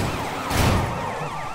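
Police car sirens wail in a Sleeping Dogs open-world driving chase, several swooping tones overlapping over continuous engine and road noise, loud and close.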